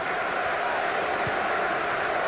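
Stadium crowd roaring steadily throughout a Premier League match, Newcastle versus Tottenham, in the football video game FIFA 15, a broad continuous wash of massed voices with no distinct individual calls.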